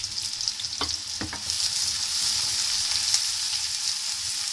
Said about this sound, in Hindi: इसको मैं हाफ फ्राई कर लूँगी